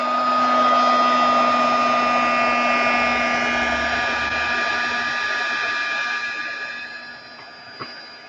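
A heat tool blows hot air to melt embossing powder on a shabby chic winter wall hanging. The steady, loud whine and rush holds for several seconds, then fades at the end, followed by a small click.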